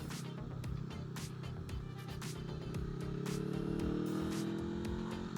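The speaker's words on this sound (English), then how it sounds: "It sounds nice. He put an exhaust on it." Honda SCL500 motorcycle fitted with an aftermarket exhaust idles and runs steadily nearby, a low rumbling drone with a rising pitch toward the middle, heard alone without talk.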